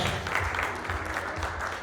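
Applause from a crowd gathered for a cake-cutting celebration, steady dense clapping throughout, moderately loud and sustained for the whole short stretch.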